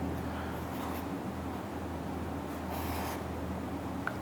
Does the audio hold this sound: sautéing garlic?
no